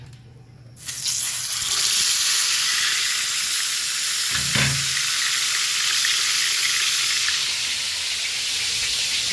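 Fish hits hot oil in a pan, setting off a loud, sustained sizzle and crackle that continues steadily, with a brief stir or clatter midway.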